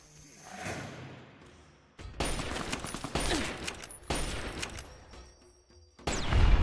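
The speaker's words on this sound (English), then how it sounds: "this is a backwater rifle" Backwater rifle in the video game Fallout, a 10mm weapon, firing in several sharp, loud reports that each leave a ringing tail, spaced about a second apart with game ambience between.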